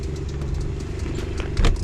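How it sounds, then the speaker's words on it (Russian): A warmed-up pit bike engine runs on a cold day, a close, steady rattling putter with a brief louder blip near the end. "Мопед работает как надо."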